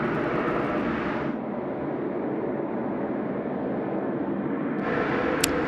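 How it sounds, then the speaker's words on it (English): A fixed-wing airliner landing at Sydney Airport at night roars loud and steady throughout, with a broad, constant engine and air rush that never fades. "So that's aircraft landing from the north and touching down, and then travelling to the south."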